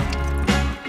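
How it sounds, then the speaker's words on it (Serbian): Blended fruit liquid being poured out in a brief wet splash and trickle lasting under a second. "Sada treba prosuti sve suvišno."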